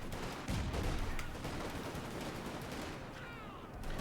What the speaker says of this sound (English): Another grenade off there.